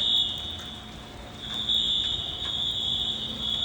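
An apartment building fire alarm sounds continuously, a loud, steady high-pitched electronic tone that pulses slightly in strength and goes on the whole time with no one speaking.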